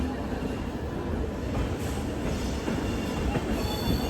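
Janshatabdi Express arriving at Tiruchirappalli Junction, its wheels squealing over a continuous rumble of railcars rolling past close by, with no talking.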